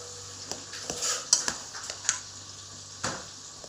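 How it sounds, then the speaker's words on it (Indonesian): Sauce for botok bolu is stirred in a pot, giving sporadic light clinks and scrapes of a spoon against the pot, quiet and close, with soft bumps between strokes. "Kita aduk-aduk seperti ini."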